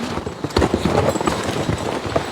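Hooves of draft horses used for logging clip-clop in a steady, irregular rhythm on a morning outdoors, fairly close and loud, with scattered heavier footfalls and no talking.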